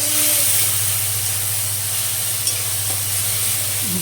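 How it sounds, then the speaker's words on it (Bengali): Spices hitting frying onions in a pan, a steady close sizzle and hiss with faint stirring scrapes throughout. "তো এখন আমি মশলাটা অ্যাড করে দেব।"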